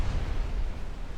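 Torpedo hits exploding against a dreadnought in a naval warfare game, a dense continuous low rumble of blasts and booming detonations with no clear gaps, fairly loud throughout.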